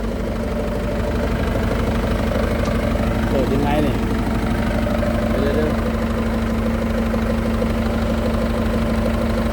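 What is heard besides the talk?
old excavator's rebuilt Mitsubishi diesel engine idling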